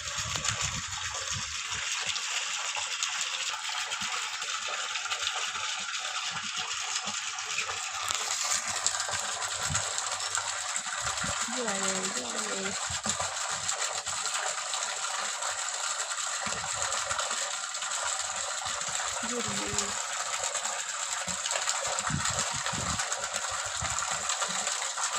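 Water runs continuously with a steady, broad rushing hiss that fills the whole stretch, near and even in loudness, with faint clatter and rattling underneath and no voices.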